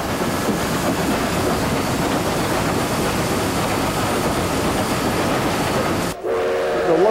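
Steam locomotive running, a loud continuous rumble and chuffing roar up close that cuts out near the end, followed by a brief higher tonal whistle.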